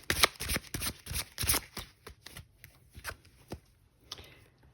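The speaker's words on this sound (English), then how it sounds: "I'll still give it a little shuffle here" A deck of tarot cards gets a quick shuffle at close range, with a rapid run of crisp riffling flutters that thin out into a few softer taps.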